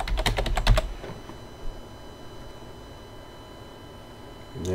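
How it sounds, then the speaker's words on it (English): A quick flurry of computer keyboard clicks at the start as a word is typed, sharp and close, followed by near silence and another short tap near the end. "you're going to want to type server"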